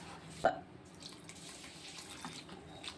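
Water is poured into rava paniyaram batter in a kitchen, a faint trickling splash with a sharper start, quiet and close with no talking.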